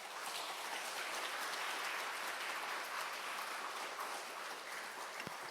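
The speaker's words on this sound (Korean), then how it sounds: "우리 나오실 때 박수로 환영하겠습니다." A church congregation claps in welcome as the pastor comes forward at a Sunday service, a steady wash of many hands sustained evenly throughout with no voices over it.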